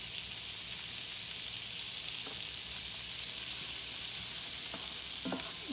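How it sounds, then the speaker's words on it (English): Pork fried rice ingredients sauté in a pan with salt and garlic powder, giving a continuous hissing sizzle that swells slightly toward the end, with a few soft stirring scrapes near the close. "And we'll just let that start sauteing up."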